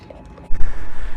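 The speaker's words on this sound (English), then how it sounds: "sorry about the wind" Wind gusts buffet a microphone outdoors as rain begins during a car dash cam wiring job, starting as a low rumble and swelling into loud, broadband blustering for the second half.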